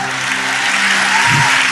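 Applause from a church audience fills the space with dense, steady clapping, loud and sustained throughout, with faint hum and low murmur beneath.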